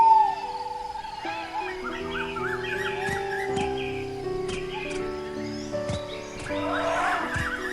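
Owls hoot and other birds chirp in a dense forest as a narrated story's sound effect, layered calls scattered over a steady low ambience for several seconds, with no talk.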